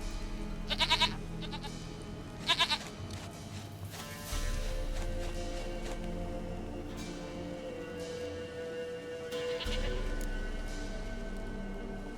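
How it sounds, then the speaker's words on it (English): A goat in The Witcher 3 bleats twice in quick wavering bursts near the start. A low steady game ambience continues underneath, with a soft rain-like hiss and a few tonal swells. "Goat of mine, dearest, sweetest goat."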